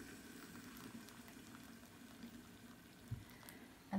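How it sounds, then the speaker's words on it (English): Boiling water is poured over food colouring in a bowl, a faint bubbling, trickling stream running steadily with a couple of small knocks near the end, no talking. "And as I pour this in, I'm going to pour it over the colouring so the colouring dissolves"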